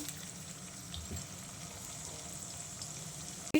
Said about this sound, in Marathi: इथे आपण हा थोडा थोडा डिंक टाकून तळून घेऊया